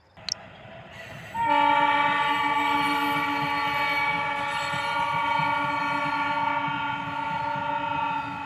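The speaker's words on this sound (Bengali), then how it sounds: "পাশের লাইনে ট্রেন যাচ্ছে" A train passes on the adjacent track with a loud sustained horn blast starting after a second, holding steady over continuous rumbling rolling noise close by.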